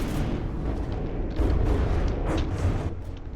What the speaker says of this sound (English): Yep, there's its missiles. It's damaging all of those missiles.